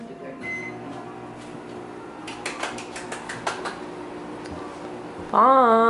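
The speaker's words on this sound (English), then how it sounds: "And then I put them in the microwave for about 15 to 30 seconds." A microwave hums steadily while heating tortillas, a quick series of clicks and taps sounds near the middle, then a loud tonal beep rings out at the end.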